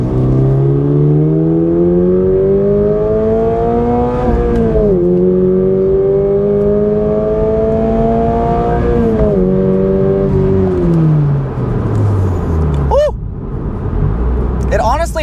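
A 2022 Subaru BRZ accelerates hard, its loud engine note rising in pitch through several gears with brief dips at each shift, ending in quick throttle blips.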